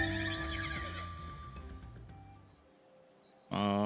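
A horse mount in Final Fantasy XIV lets out a long, loud whinny that trails off, followed by a quieter pause and then a second burst of neighing at the end.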